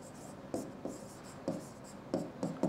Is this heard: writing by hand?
yes